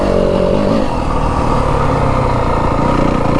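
A 2025 Yamaha WR250F dirt bike rides through the Arizona desert, its engine loud and close, with a steady buzzing drone and rapid throttle changes.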